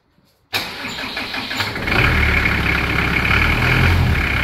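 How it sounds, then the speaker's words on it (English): An old-school 4x4 diesel engine cranks and fires after a brief quiet start, then settles into a loud, rough, steady rumble close by, with no talking. "A very loud 4x4 diesel, old school."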